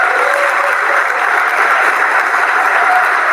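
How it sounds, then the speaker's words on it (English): Dense, uniform applause sound effect played on a live stream, a steady wash of clapping at constant loudness with no individual claps standing out and no talk. "Or some hand claps."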